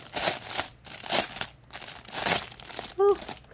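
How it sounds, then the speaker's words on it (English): A rattly plastic bag from a toy unboxing crinkles and crackles in several bursts, close and fairly loud, ending with a brief voiced squeak. "again with the rattly bag."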